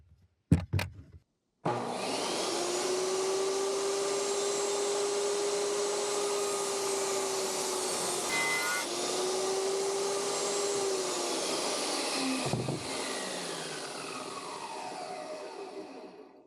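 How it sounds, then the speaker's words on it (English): Table saw powered by a 3,000 watt inverter at an off-grid Alaskan cabin, spinning up loudly and running steadily for about eleven seconds with a whining hum, then briefly dipping and winding down before a second run, with short knocks at the start. "That inverter even runs a table saw?"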